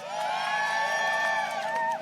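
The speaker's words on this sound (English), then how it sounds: "Give yourself a round of applause" Outdoor political rally crowd on a cold, wet day at a House Democrats event, cheering and whooping with applause, a loud sustained roar of voices for about two seconds.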